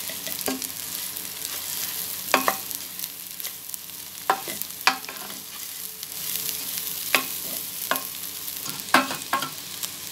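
Rice with vermicelli frying and being stirred in hot oil in a pot, giving a steady close sizzle with sharp scraping knocks from the spoon at irregular intervals.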